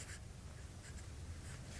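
A pen scratches letters onto paper in short, soft strokes, very quiet and close, with no other sound around it.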